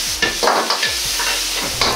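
Bamboo shoots and green onions stir-fried in a pan give a loud, steady sizzle, broken by repeated scraping strokes of a spatula against the pan, close up with no talking.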